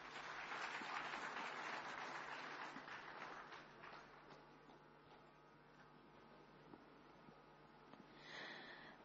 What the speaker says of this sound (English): I'm sure they deserve a bigger round of applause.